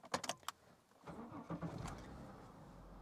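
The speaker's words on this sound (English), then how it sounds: "So let's see if we can start the car again." Several sharp clicks come first, then a Holden Commodore VU-VY with an Ecotec V6 cranks and catches, settling into a steady idle close by, with no talking.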